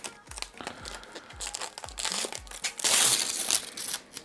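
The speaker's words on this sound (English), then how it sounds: "And then we have got a big peel to do." Protective plastic film is peeled off the backplate of an Inno3D RTX 4080 Super X3 graphics card, giving a run of close crinkling, crackling rustles with soft thumps, growing louder and denser toward the end.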